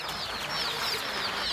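Chickens and chicks in a poultry flock chirp and cluck together in a continuous, moderately close chorus of overlapping high peeps with no voices.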